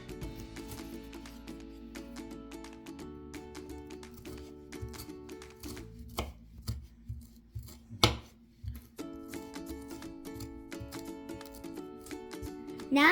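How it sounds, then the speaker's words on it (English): A knife chops paprika on a cutting board with quick, crisp, uneven taps close to the mic. Soft background music plays underneath, and the chopping pauses briefly partway through. "and cut the paprika"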